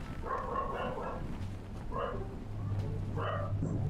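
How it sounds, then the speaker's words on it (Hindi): A dog barking in the video game Super People, a few short bursts of barks spaced a second or so apart, moderately distant. "कुत्ता भौंक रहा है किसी का।"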